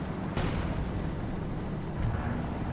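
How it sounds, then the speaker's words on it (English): Concentration barrage from artillery in Company of Heroes 2, a dense battlefield rumble with a sharp impact burst early on and a steady roar of distant shelling that continues for a few seconds. "There is artillery coming down, so I'm assuming some Overwatch. No, some concentration barrage."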